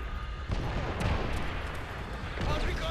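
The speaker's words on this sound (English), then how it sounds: "They hear artillery coming down." Artillery shells land in Call of Duty: World at War, a few booming impacts scattered across a short stretch, with bursts near the start, middle and end under game ambience.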